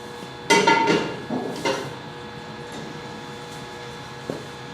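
A metal saucepan handled on a kitchen stove gives a few loud clanks and scrapes close by, then quieter knocks, with a steady hum behind.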